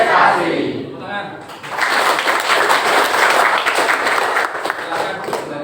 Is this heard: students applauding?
yes